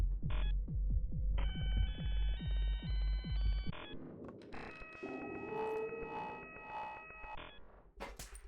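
In the video game Buckshot Roulette, a burner phone rings loud and electronic: a throbbing buzz with rising pulsed tones, then a second sustained warbling ring, ending in sharp clicks.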